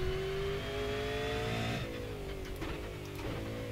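An old Indy car in the iRacing video game accelerates hard at full throttle from a restart in first gear, its engine note rising steadily in pitch and holding loud and continuous, with no talk.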